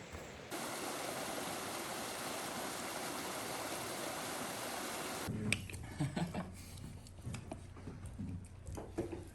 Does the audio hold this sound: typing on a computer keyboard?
no